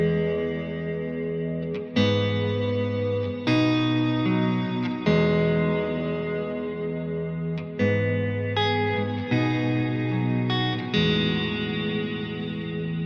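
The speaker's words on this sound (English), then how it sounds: "Especially if you love to play through a lot of reverb like I do, it gives the space to the notes to ring properly." An electric guitar strums a progression of sustained chords starting on E through heavy reverb. About eight struck chords ring out long and wash together, loud and clear with no talk over them.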